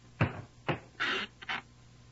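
A barber's chair mechanism squeaks and creaks in four short bursts, two low thuds followed by two higher grating squeals, close and clear against a quiet background.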